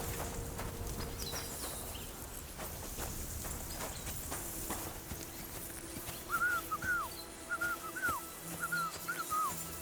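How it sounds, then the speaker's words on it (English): A man whistles a short repeated tune in Kingdom Come: Deliverance II, rising chirpy phrases in the second half over a busy outdoor game soundscape with hoof clops, insects and ambient noise. "Your whistling is getting on my fucking nerves the whole way."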